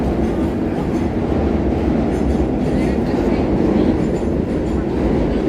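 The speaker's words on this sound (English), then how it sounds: "Here's subway down there." New York City subway train passing beneath the street near 36th Street, a steady loud rumbling roar with faint clatter, continuous throughout with no pauses.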